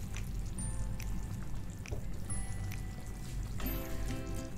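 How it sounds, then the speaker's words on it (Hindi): One bowl of parboiled cauliflower is tipped into a pot of mixed vegetable korma with carrots and beans, giving a steady pouring rustle with scattered light clinks and knocks up close. "अब हम इसमें डालेंगे कॉलीफ्लावर"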